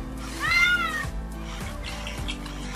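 A cat meows once in a coding project, a clear rising-and-falling cry near the start, followed by soft rhythmic lapping clicks like a cat drinking milk, with a steady low hum underneath and no speech.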